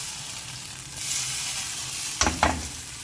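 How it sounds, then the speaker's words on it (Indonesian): Bell pepper sautéed in a pan for a tomato consommé, sizzling steadily with a brighter hiss as it is stirred, and two short scraping stirs near the end; no voices. "Jadi ini akan saya tumis"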